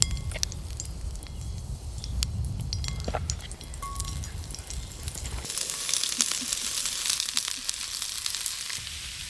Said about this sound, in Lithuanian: Kepe Jonas svogūnus.